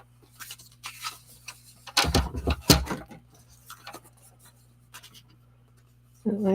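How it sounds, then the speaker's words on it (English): A paper cutter slices through card stock during card making, giving a couple of short, scraping blade strokes in the middle amid quiet handling noise and room hum. "And then a paper cutter."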